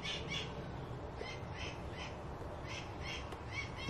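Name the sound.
bird squawking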